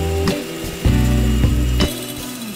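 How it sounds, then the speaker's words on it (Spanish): An electric mixer whips four separated egg whites for chocolate and walnut tejas, a steady motor whine broken by a few sharp clacks as the beaters knock the bowl. "Separaremos 4 claras y las montaremos."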